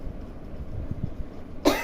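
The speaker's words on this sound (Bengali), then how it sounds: "কাশি উঠে যাচ্ছে" A woman in pain coughs softly in a quiet room, a few faint low coughs ending in one louder, sharper cough.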